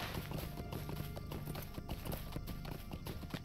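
Steady, rapid clip-clop of horse hooves during a ride in Lord of the Rings Online, close and continuous over a dense backdrop of ambient game sound, with no talking.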